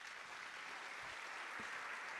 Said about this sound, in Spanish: Este aplauso enorme es para él